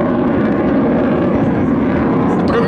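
A Belgian F-16 fighter jet passes over an air show, its engine a loud, steady roar that fills the whole stretch without letting up.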